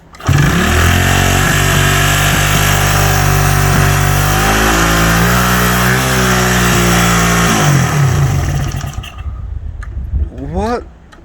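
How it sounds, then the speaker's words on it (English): A classic Honda CB125 or CB360 motorcycle engine fires up loud and close, running a rough steady idle with revs rising and falling before it cuts out, followed by brief voices. "So we'll just start the bike up, give it a little bit more juice."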